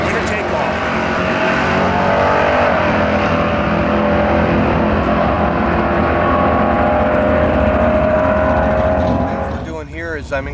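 Match bash drag racing cars at Lebanon Valley Dragway, a loud sustained engine roar that builds and holds, then fades with a pass near the end, with a voice talking over it.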